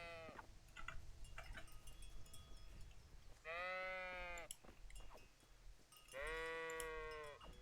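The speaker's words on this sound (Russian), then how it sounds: "Идем пиздить овцу." A sheep in a video game bleats twice, with long, clear, wavering cries separated by a few seconds, over quiet game background noise and clicks.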